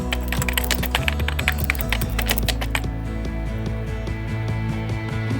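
Rapid typing on a computer keyboard while entering an email address, a dense run of close, crisp key clicks that continues steadily and then slows into sparser taps, with no talking.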